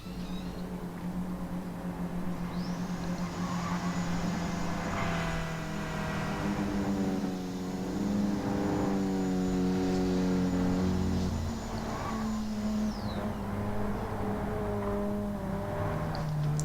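Race cars idle and creep along on a formation lap in Gran Turismo 7 at the Nürburgring, a Chevrolet and a Mercedes in the field, with steady engine drones and a sustained high whine running through most of the stretch.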